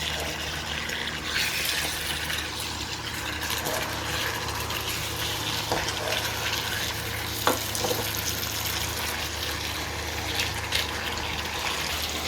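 Chicken for chicken asado being stirred in a hot pan, with a continuous close sizzle and frying hiss, occasional soft scrapes and knocks of the spoon, and no talking.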